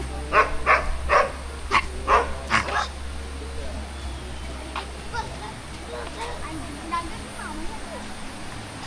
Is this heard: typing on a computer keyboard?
no